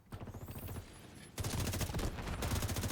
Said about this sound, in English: Mortars keep landing on my head.